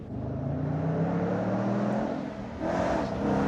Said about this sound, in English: Here we are driving the Revology Mustang